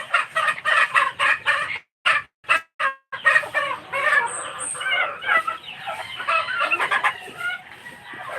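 A chicken clucking loudly and close by in short bursts, with a rooster crowing among the calls and brief pauses between.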